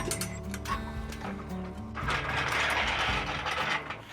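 A ratchet works a cut bolt loose from a truck hitch during off-road truck repairs. Rapid clicking pawl strokes come in bursts close to the mic over a mechanical background.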